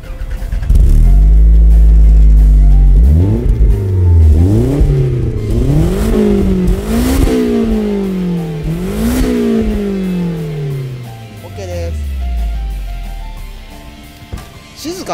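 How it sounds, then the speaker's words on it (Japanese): A Toyota Caldina GT-T's turbo engine revs up repeatedly through a quiet exhaust in rising and falling bursts, loud and close, then winds down to a low, smooth idle. "ちょっとマフラーの音聞かせてください"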